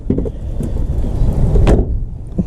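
A first-generation Subaru Forester hood being released, with a sharp mechanical clunk and brief rattle up close over steady background rumble.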